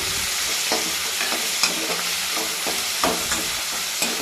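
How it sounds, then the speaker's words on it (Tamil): Salted onions sauté over a low flame in a pan, a soft continuous sizzle broken by repeated scraping stirs and light spoon knocks, up close with no voices. "லோ ஃப்ளேம் வச்சுட்டு நல்லா வெங்காயத்தை வதக்கிக்கலாம்"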